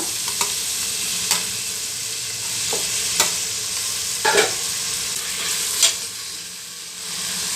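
Ingredients fry in oil in a pan for mutton biryani, giving a steady loud sizzle broken by several sharp spoon clacks and scrapes as the mixture is stirred.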